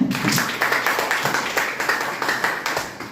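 A classroom of students clapping for a classmate, a small group beating out a fairly even rhythmic clap of distinct pulses, close and fairly loud, with no talk.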